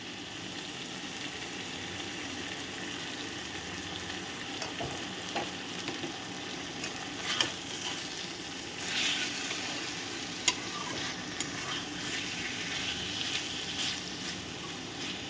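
Pointed gourd cooked with coconut sizzles quietly in ghee, a soft continuous frying hiss with occasional faint taps and scrapes of a spoon, no voices.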